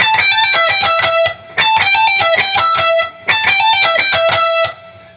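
Electric guitar plays a repeated lick, quick picked and hammered notes with bends, three phrases each separated by a short rest, loud and alone.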